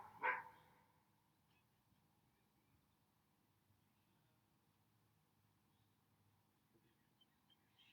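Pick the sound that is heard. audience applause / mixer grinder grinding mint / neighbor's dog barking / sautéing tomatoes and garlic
neighbor's dog barking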